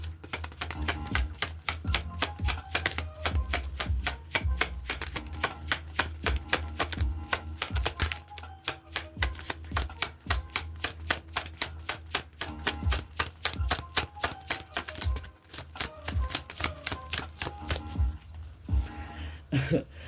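Rapid, crisp clicking and flapping of a deck of tarot cards being shuffled, continuous rattling bursts close up with brief pauses, no voices.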